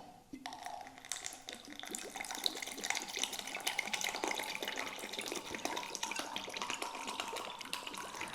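Apple cider vinegar poured steadily into a container while making pickled green tomatoes at home, a continuous quiet trickling splash with faint dripping, no talking.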